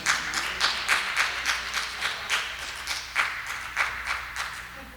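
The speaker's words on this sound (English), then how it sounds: "I got 7 claps" A church congregation at a Bible study claps about seven times in a loose, uneven rhythm, the sharp hand-claps standing out in a large room with no talk over them.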